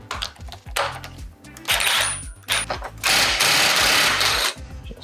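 A wrench ratchets on a bolt of a Sherco dirt bike, close-up rapid clicking in short bursts with pauses, alongside louder rustling handling noise.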